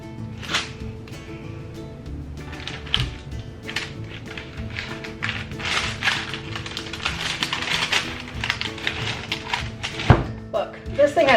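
A freshly unmolded, hardened block of handmade cold process soap with clays, yarrow and essential oils is cut on a countertop, giving a steady run of close, dry taps, knocks and thunks.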